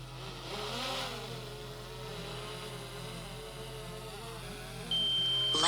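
Drone flying back to its home point over Lake Kipawa, a faint, steady motor whine with shifting pitch, a brief rise in level near the end.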